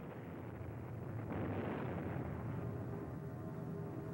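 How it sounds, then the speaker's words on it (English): B-52 bombers bombing Hanoi in December 1972, a deep rolling rumble of distant explosions that swells partway through and holds as a heavy sustained roar, with no voices. "the B-52s bomb Hanoi for the first time for 11 days and nights"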